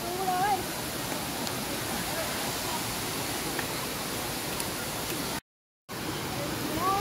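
Water pours down Chet Sao Noi Waterfall in Muak Lek, Saraburi, Thailand, a constant broad roar heard up close. It cuts out briefly near the end, and a faint voice shows through.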